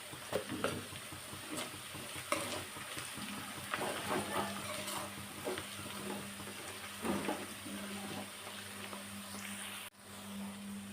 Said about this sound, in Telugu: ఈ అల్లం వెల్లుల్లి పేస్ట్ పచ్చివాసన పోయేదాకా వేయించుకోవాలి